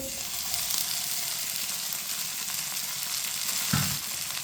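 Finely chopped tomatoes, three of them, drop into a hot pan of lightly browned onions and set off a steady, close sizzle with a brief louder burst near the end, no voices.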